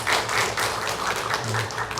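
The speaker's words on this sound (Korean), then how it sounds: "우리 진심으로 박수로 환영하도록 그렇게." A church congregation claps in welcome during a family worship service, a short burst of dense, fairly loud applause with a faint low murmur underneath.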